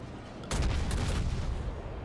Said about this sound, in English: Meanwhile, I'm opening fire with my guns, using high explosives, just to try and set him on fire.